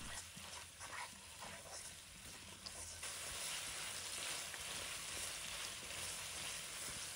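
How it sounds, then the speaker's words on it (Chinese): Chili bean paste sizzles faintly but steadily in hot oil with ginger and garlic as it is stir-fried, a continuous soft frying hiss with no talking. "再加入1勺的豆瓣酱，先把豆瓣酱炒香"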